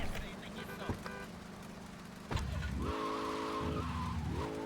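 A car in GTA Vice City drives off with a droning engine that revs up and down, with tires skidding and squealing, loud and continuous after a brief quieter start.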